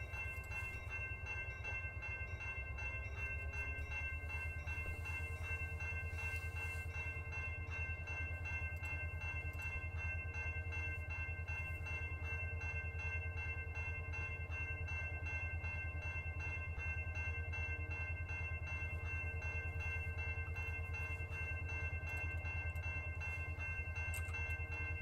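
A CSX freight train in the Run 8 rail simulator rumbles steadily with a low, continuous engine drone and sustained tonal hum, faint and unbroken throughout with no talk.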